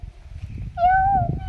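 A voice imitates a cat with one drawn-out, nasal meow at close range during a fun activity with Santali schoolchildren, over low background murmur.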